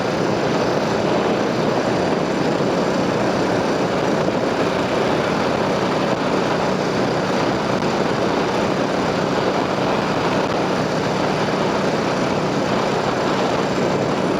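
A beginner motorcycle's engine running at low RPM, a loud, close, steady drone that holds an even pitch for the whole stretch with no revving, alone.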